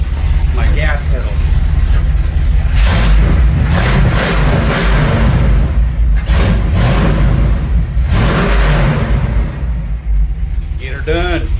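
A Chevrolet C10 truck engine revs repeatedly as the gas pedal is blipped, loud and close, with surges rising and falling in bursts over a steady idle, while someone talks over it.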